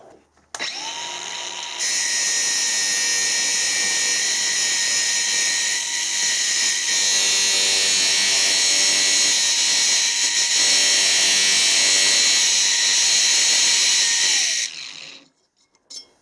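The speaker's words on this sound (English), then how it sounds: "that is making a really nice job of grinding those tungstens" A homemade tungsten grinder grinding tungsten electrodes whines with a loud, steady high-pitched motor and wheel hum that starts abruptly, holds for about fourteen seconds, then spins down.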